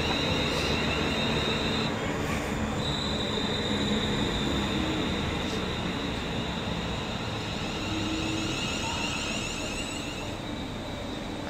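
A Class 350 electric train sits at Liverpool South Parkway station on the WCML Liverpool branch, giving a steady, loud mechanical hum and rumble throughout with faint high-pitched tones above.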